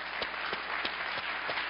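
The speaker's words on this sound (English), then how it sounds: "so give him a massive round of applause" Dense applause fills a conference hall as an audience welcomes a speaker, a steady wash of many hands clapping together, loud and continuous throughout.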